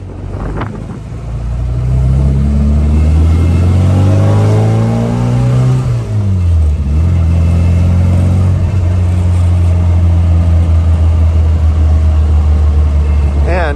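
An Austin Healey Bugeye Sprite engine revs loud and close as the gears are shifted with double clutching, pitch climbing and dropping between gears before settling into a steady drone, with a voice talking over it.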